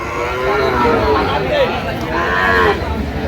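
Cattle, including Sahiwal bulls and calves, moo repeatedly in long, drawn-out calls over a busy crowd murmur and nearby chatter at an outdoor livestock market in Chapainawabganj.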